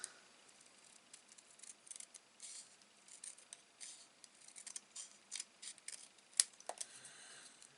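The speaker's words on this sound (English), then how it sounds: "So I'm just taking my scissors" Quiet, crisp snips of scissors cutting through card, a series of short irregular cuts with one sharper snip near the end.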